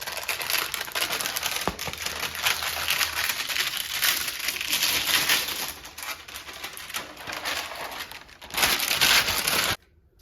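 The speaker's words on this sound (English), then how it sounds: "It has a peel and stick layer, so peeled that off, got it stuck in place." Peel-and-stick adhesive backing stripped off a heat shield blanket during blower installation on a 2016 Hellcat, a loud, continuous crackling tear that runs close up for nearly the whole stretch, then cuts off sharply.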